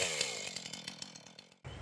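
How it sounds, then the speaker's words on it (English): A chainsaw on an Alaskan chainsaw mill whines steadily as it mills a log into lumber, its pitch wavering with the load, then the cut stops abruptly near the end. "Logs to lumber using an Alaskan Chainsaw Mill"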